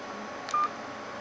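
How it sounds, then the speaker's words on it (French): Anycool T728D mobile phone sounding one short, clean keypad tone as a number is dialed, a single brief beep over a quiet background. "vous tapez votre numéro de téléphone tout simplement"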